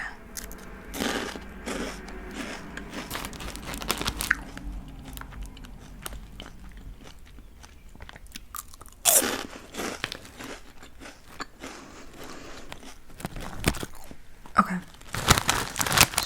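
Irish hot-fry style snacks being bitten and chewed up close: crisp crunches and crinkly chewing come in irregular bursts, with louder bites clustered near the middle and end and quieter chewing between them.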